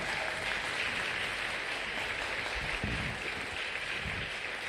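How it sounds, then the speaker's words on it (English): An audience at a city health grant recipient announcement gives a steady round of applause, dense and even from start to finish, with the claps blending into a continuous wash. "let's give them a round of applause"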